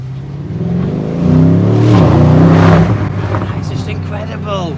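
A Lamborghini Urus engine revs through its stock exhaust from inside the cabin, swelling into a loud, deep roar midway and then settling back to a steady drone, with a person talking over it.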